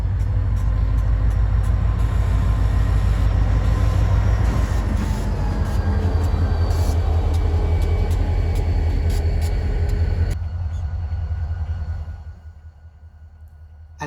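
A U.S. Sugar freight train locomotive, the 503, pulls cane cars out toward the mill. Its engine gives a heavy, close rumbling drone over the rails for about ten seconds, then fades quickly as it moves away.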